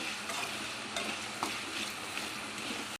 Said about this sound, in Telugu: పసుపు వేసుకొని ఫ్రై చేసుకోవాలి.